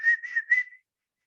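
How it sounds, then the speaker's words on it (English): A single person whistles a short wavering tune with the mouth during a children's sound game, clear and close for under a second, then silence. "That is whistling."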